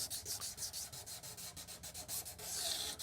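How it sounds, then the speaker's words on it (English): An old, cheap kitchen knife blade being sanded by hand with sandpaper to smooth out scratches after rust removal, giving steady rhythmic back-and-forth rasping strokes, close and fairly loud, with no talking. "I don't know if this is wet dry sandpaper, but it works just fine."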